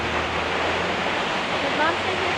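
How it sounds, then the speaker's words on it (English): A waterfall in Twin Falls, Idaho gives a steady, broad rushing roar throughout, with a faint voice briefly heard over it. "Now we go find the waterfall."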